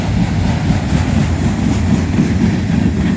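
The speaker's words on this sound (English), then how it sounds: "It's a pretty long train, actually." A long freight train with three engines rumbles past close by in Columbus County Park, Michigan, low heavy rolling noise with rail clatter holding steady throughout.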